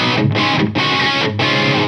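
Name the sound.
electric guitar through cheap overdrive pedal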